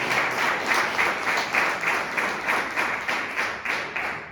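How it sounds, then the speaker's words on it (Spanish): A church congregation applauds in a rhythmic, steady clap that carries throughout, full and close, with a faint murmur of voices beneath. "No, es un aplauso."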